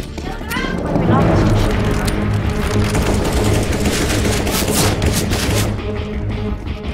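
Rapid gunfire in the video game Counter-Strike, a loud, dense burst of shots that stays continuous and close for most of several seconds before easing off, with voices talking over it.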